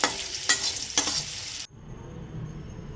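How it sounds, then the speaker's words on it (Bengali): Potato pieces with a little salt and turmeric frying in oil in a wok, a brisk sizzle with two quick stirring scrapes that cuts off abruptly into near silence after a second and a half. "ওই তেলের মধ্যে আলুগুলো ভেজে রাখবো সামান্য লবণ সামান্য হলুদ দিয়ে এটা লাল করে একটু ভেজে তুলে রাখবো"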